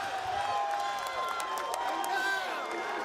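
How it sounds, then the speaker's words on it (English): A crowd roars and whoops after a submission win at a PFL Challenger Series MMA event at Universal Studios in Orlando, a sustained cheering wash with scattered shouts and what sounds like an announcer's voice riding over it. "The crowd goes wild."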